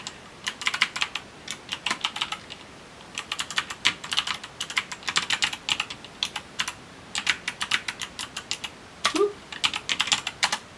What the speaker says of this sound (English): I can type that right here